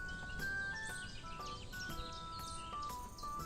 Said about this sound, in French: c'est en arrivant, vous avez le bruit des oiseaux.